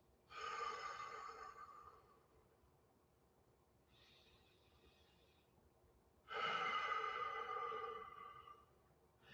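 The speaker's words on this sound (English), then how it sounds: "what you're going to do is breathe in through the nose." Two long, hissing breaths drawn in through the nose, each lasting about two seconds, close and quiet with a soft whistle in between, and no talking.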